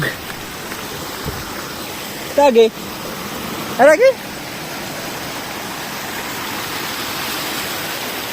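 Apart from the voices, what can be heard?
river water flowing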